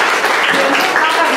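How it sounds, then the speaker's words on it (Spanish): A short burst of applause from a crowd, steady clapping throughout. "Un aplauso."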